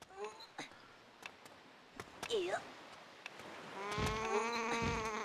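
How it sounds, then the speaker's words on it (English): Bleating, goat-like calls from birds in Zelda: The Wind Waker HD, with a few short cries early and a louder, layered burst of harmonic bleats in the last second and a half. "I don't like the sound these birds make."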